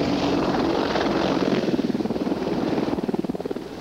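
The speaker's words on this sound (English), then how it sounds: "Pilot Mark Metzger and the Apache are in Duluth to test a new engine in cold weather." Apache helicopter flying low over northern Minnesota trees in cold weather, powered by a new test engine; steady loud rotor drone with rhythmic blade chop pulsing stronger toward the end.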